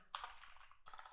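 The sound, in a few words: typing on a computer keyboard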